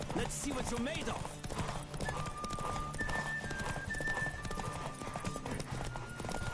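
Horse hooves pound in a fast gallop in The Witcher 3, a dense rapid clip-clop close up, with a whinny near the start and a voice speaking over the ride.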